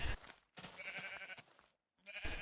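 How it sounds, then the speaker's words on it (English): Sheep bleating in Minecraft, a black and a light grey sheep: three separate nasal bleats with short silent gaps between them, clear and close, with no voices. "I head home and find a black and light grey sheep on the way"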